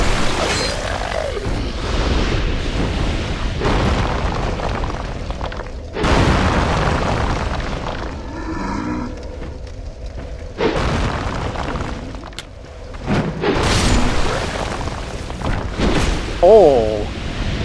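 Black firebomb explosions in Dark Souls 2, heavy booming bursts repeating across the stretch alongside game sound effects, with someone talking over the action.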